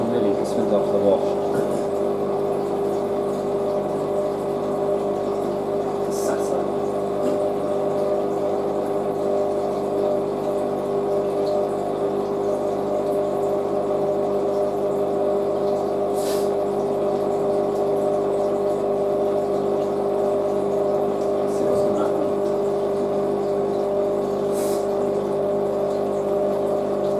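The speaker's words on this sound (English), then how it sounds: "Third intermediate spin. You know what's different about this one? It spins after the wash." A new washing machine running its intermediate spin after the wash, a steady loud motor whir with a strong sustained hum, continuous and even throughout with a few faint clicks.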